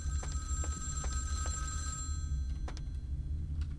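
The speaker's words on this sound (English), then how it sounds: "And apparently the phone is ringing." A telephone rings inside the video game Vampire: The Masquerade - Bloodlines, giving a run of rapid, repeated bell-like trills over a steady low hum, fairly quiet and with no talking.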